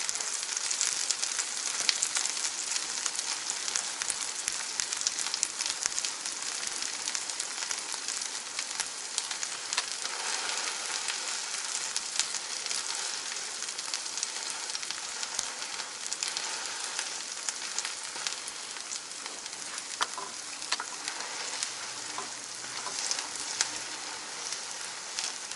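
Cheese and eggs fry in a pan for a sandwich, giving a steady, even sizzle with a soft hiss and faint crackle that runs evenly throughout without any talk.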